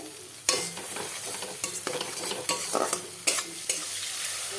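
Ginger and spices frying in oil for a banana flower curry, a steady hiss of sizzling with intermittent sharp scrapes and clatters of stirring, close by.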